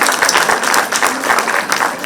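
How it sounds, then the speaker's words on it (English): Dense, steady applause from a conference audience, many hands clapping together close and loud for the full duration. "A round of applause for sir."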